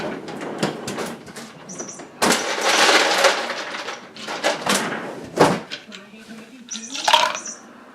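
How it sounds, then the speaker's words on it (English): Ice clatters and rattles into a metal shaker in a few loud bursts, with clinks and knocks between, close up, amid brief talk. "going to throw a little ice in there."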